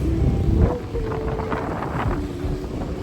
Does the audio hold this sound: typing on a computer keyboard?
no